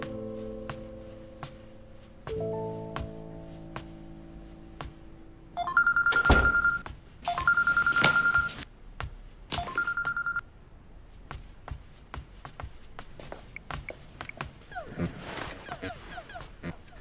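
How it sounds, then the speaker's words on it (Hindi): A telephone ringing with an incoming call, in bursts of bright electronic ring tones over a quiet room, with low tonal background sound at first and faint movement and voices afterward. "तुम्हारी कॉल आ रही है, उठा क्यों नहीं रहे?"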